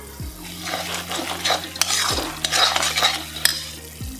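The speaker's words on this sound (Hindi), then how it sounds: "इसको थोड़ा सा और भूनेंगे हम" Masala for butter chicken fries and sizzles in oil while a spoon stirs and scrapes the pan in steady strokes, close and fairly quiet with no talking.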